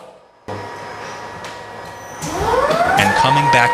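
A robotic hardwood floor sander hums steadily, then its motor whine rises in pitch and grows louder as it spins up, with an underlying mechanical rumble.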